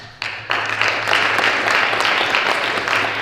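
An audience at the New York Stock Exchange closing bell bursts into applause after a brief pause, then keeps up steady, close clapping over a low constant hum.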